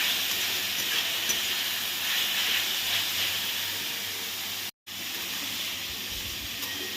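Diced capsicum and carrot being stirred in a hot pan for fried rice, a steady loud hissing sizzle close by that briefly drops out for a moment before carrying on.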